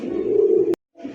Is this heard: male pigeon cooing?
yes